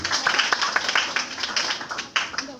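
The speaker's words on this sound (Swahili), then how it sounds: "Pigia Yesu makofi mazuri." A church congregation claps in quick, uneven bursts at a moderate distance, with a voice speaking over the applause throughout.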